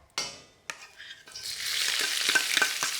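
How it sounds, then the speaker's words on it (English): Ginger, garlic, spring onion and red chili hit a hot oiled wok, with sharp tossing clatters at first, then a building, steady loud sizzle over a few seconds, no talking. "straight into the wok, and let that sizzle away"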